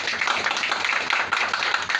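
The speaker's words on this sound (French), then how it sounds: "que je vous demande d'applaudir, monsieur" Dense, steady clapping fills a hall during a ceremony installing a new director, with the audience applauding the outgoing director general. Close and continuous for about two seconds with no clear voices.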